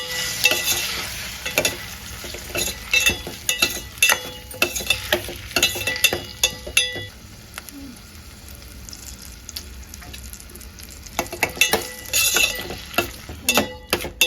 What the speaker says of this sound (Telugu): తరిగి పెట్టుకున్న టమాటో, బాగా కలపాలి.